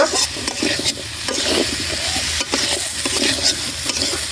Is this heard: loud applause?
no